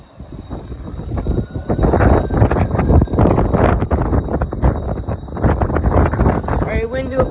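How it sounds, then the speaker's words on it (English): Strong wind buffets the microphone high up in the open at a shopping park in Newcastle, roaring steadily and loud throughout the clip with gusty swells and no letup. "It's very windy up here, as you can probably tell."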